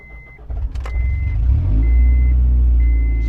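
A Honda CR-V with no catalytic converter pulls away loudly, its deep, rumbling exhaust building steadily from a quiet start into a sustained drone, with a faint repeating beep chiming over it.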